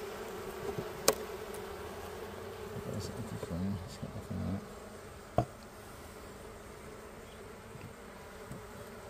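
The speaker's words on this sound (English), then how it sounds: "Oh, now I hear them getting louder." Honey bees buzz in an opened hive, a faint steady hum with a few sharp knocks and clunks from handling the hive; a brief voice is heard.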